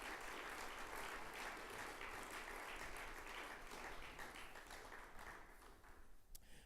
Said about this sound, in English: could we have a round of applause for Evelyn Parker, Carol Donaldson, Jane Stephen